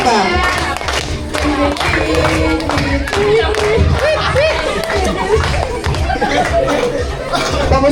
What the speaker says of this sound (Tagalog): Sabay mo na dito ng palakpak.